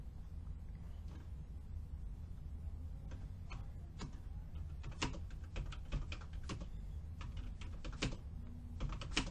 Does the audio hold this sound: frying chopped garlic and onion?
no